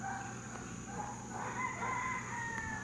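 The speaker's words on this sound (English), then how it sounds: "Listen to all the chickens, roosters crowing." Chickens cluck and roosters crow at a rural home place, several drawn-out crows overlapping above a steady background hum, moderately distant.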